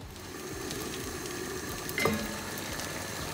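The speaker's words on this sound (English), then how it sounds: "just cook that in a nice medium to high heat griddle pan" Bread sizzles steadily in a griddle pan over medium to high heat, a constant close frying crackle with one brief louder clink partway through and no talking.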